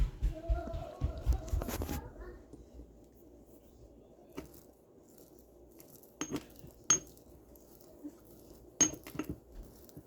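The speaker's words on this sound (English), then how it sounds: "Doing it in the mortar and pestle." Dried deer meat worked in a mortar and pestle, a few clinks and scrapes at first, then sparse sharp knocks spaced apart in a quiet room.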